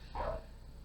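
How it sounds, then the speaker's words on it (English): A single loud dog bark or yip, close by and brief, with a quiet room tone before and after. "She has a very loud bark."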